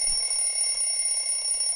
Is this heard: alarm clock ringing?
yes